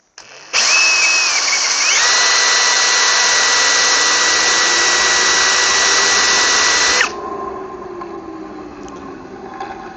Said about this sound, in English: I have been able to spin it up with the drill, which I'll do now.